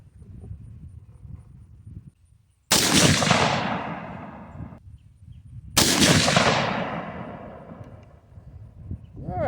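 Two loud, sharp gunshots from a 22-250 AR10 rifle crack out about three seconds apart during accuracy testing, each leaving a long decaying echo over quiet background noise.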